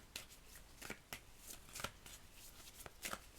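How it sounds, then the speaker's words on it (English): Oracle cards shuffled by hand, a run of quick riffling bursts repeating in an irregular rhythm, close and fairly quiet with no voice over it. "let's pull your oracle cards"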